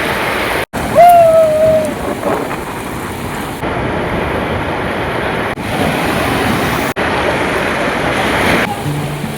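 Sea waves wash steadily onto Bakkhali beach in a broad, constant roar, mixed with gusty wind buffeting the microphone, with a brief whistling tone near the start.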